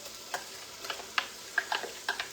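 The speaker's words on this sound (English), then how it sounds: "Gonna get those sauteed." Chopped onions sautéing in a pan give off faint, scattered crackles and soft pops, a handful of quiet sizzling bursts spread over a couple of seconds with no talking.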